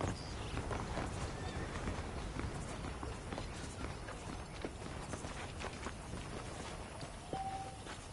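Horse hooves clip-clop in a steady walking rhythm in Red Dead Redemption, moderately close and fairly quiet, with faint ambient outdoor sound and occasional small knocks.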